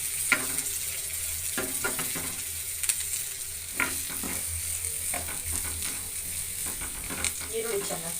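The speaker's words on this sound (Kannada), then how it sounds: "ಮತ್ತು ಒಂದು 4-5 ಕರಿಬೇವು ಇಷ್ಟನ್ನು ಹಾಕಿ ಫ್ರೈ ಮಾಡ್ತಾಯಿದ್ದೀನಿ." Crushed garlic and a few curry leaves frying in a pan for a village-style horse gram bassaru, a steady sizzling crackle with scattered scraping ratchety stirring clicks throughout.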